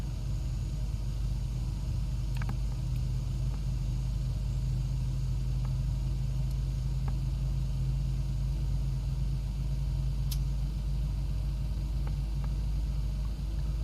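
A Boeing 737 airliner engine in a flight simulator runs steadily just after start, giving a continuous low rumble and hum with a few faint clicks over it, and no talking.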